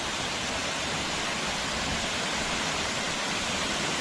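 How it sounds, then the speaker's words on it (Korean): A cool mountain valley stream flows in a steady, loud, unbroken rush of water, heard close and alone with no voices. "시원한 계곡입니다."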